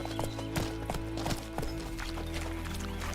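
Hooves of the horse Roach in The Witcher 3, a rhythmic clip-clop of trotting steps over a steady background game ambience.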